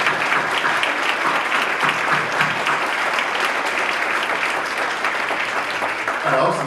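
An audience at a university student recognition event claps loudly and continuously, a dense wash of applause that fills the room, with a voice talking over it.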